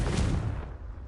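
An explosive Confringo spell blast in Hogwarts Legacy, a single loud booming burst with a deep rumble that decays over about a second.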